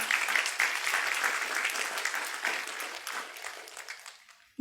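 Moderately distant audience applause at a lecture event, steady clapping that gradually thins and fades out near the end.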